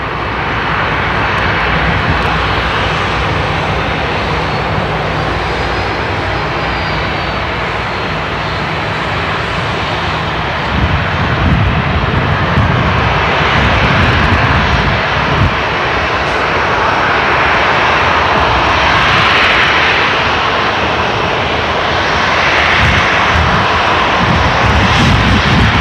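A jet airliner roars on departure at Seattle-Tacoma International Airport, a loud, steady engine rumble that swells and holds across the whole stretch with no talk over it.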